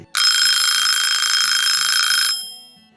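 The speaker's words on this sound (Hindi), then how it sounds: "आज हमारी सुबह सुबह 6:50 पर अलार्म बजती है" A loud, high electronic alarm rings continuously for about two seconds, then cuts off and fades, with a faint low beeping underneath.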